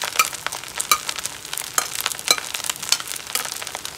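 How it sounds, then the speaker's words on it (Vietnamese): Rice stir-fried with shrimp in a pan, Hong Kong style, giving a close, steady sizzle broken by irregular scraping and clattering stirs of the spatula, with no talk. "Các bạn xào nó khô nó thơm gì xong rồi các bạn bỏ tôm vô."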